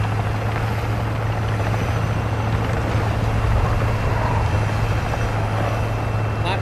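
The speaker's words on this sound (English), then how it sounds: "Helicopter. Leave us alone." Helicopter in the Call of Duty DMZ video game flying overhead, a steady loud rotor thrum and engine drone that holds evenly throughout with no talk.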